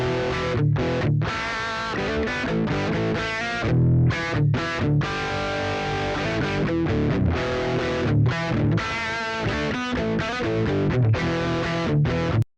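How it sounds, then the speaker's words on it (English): An unprocessed, heavily distorted monophonic electric guitar plays a dense, driving riff with brief gaps between phrases, loud and saturated throughout with no voices. "I have a distorted guitar. It's a little bit heavier"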